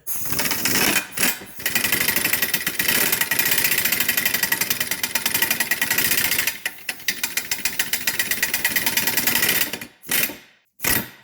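An impact wrench rattles loudly in long, rapid hammering bursts, tightening a nut during suspension work on a 2006 Subaru Forester, stopping briefly between runs, then a few short final blips.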